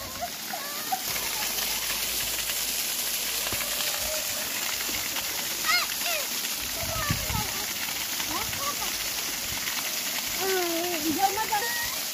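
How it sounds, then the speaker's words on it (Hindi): Water falling and splashing at Mirchiya waterfall, a constant hissing spray heard close, with people talking over it. "पानी का छीटा पड़ रहा है। हाँ देख लीजिए दोस्तों, यहाँ से पानी गिर रहा है, इधर छीटा पड़ रहा है"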